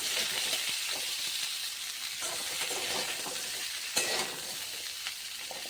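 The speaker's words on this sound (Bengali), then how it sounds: "সেই কড়াইতে আমি আর একটু তেল দিয়ে তার ভিতরে জিরে ফোড়ন দিয়ে সেই কেটে রেখেছিলাম সিম সেগুলো দিয়ে দিলাম" Flat beans tossed in hot oil with cumin in a wok sizzle steadily up close, a constant bright hiss with small scraping stir sounds and no talking.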